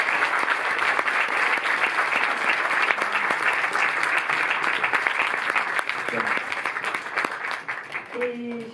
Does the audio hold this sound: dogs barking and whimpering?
no